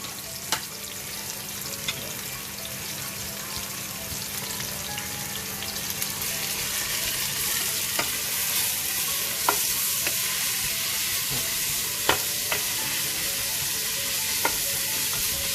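Whole spices fry and sizzle in a pan of hot oil for a Rajasthani lamb curry, a steady close crackle with occasional stirring clicks and scrapes, with no talking.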